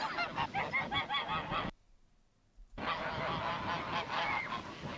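A flock of geese honks loudly and continuously nearby, breaking off into a brief near-silence before the clamorous honking resumes.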